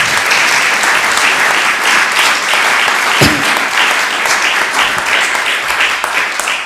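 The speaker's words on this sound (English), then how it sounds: "Can we give a big round of applause?" Loud, sustained audience applause follows an architects' presentation, a dense continuous clatter of many hands with no break, close and full throughout.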